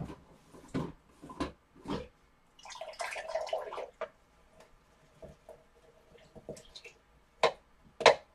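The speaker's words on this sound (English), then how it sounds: "Let me rinse this off a bit." An acrylic paint brush is rinsed in water, giving quiet close dabs and drips, then a brief swishing splash, followed by scattered light taps and trickles.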